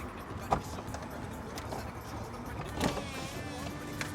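A 2006 BMW Z4 roadster's electric convertible roof opens with a low, steady motor whir and a few faint mechanical clicks and thumps, heard from inside the car while the button is held down.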